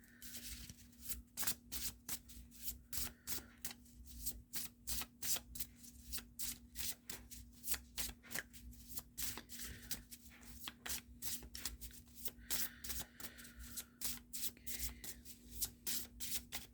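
A deck of astrology cards is shuffled by hand in quick, repeated riffling bursts, close and crisp against a faint steady hum, with no talking.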